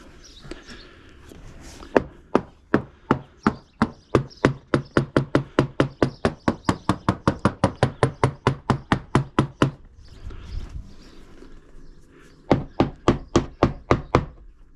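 A fiberglass boat deck is tapped over and over to check its core, giving sharp, hollow knocks that come close and loud in a fast steady run, then pause and resume in a shorter burst.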